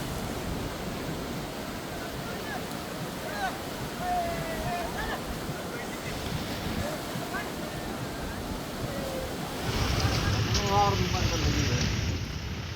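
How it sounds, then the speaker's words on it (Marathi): The flooded Sindphana river in Beed district rushes past in a steady, dense roar of moving water, close and unbroken, with wind buffeting and faint voices in the background. The roar swells louder toward the end. "आपण पाहू शकतोय सिंदफणा नदीला पूर आला"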